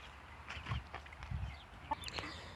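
A large Faverolles hen clucks softly in a few scattered low bursts, close but quiet, with light background rustle and a brief higher squawk near the end.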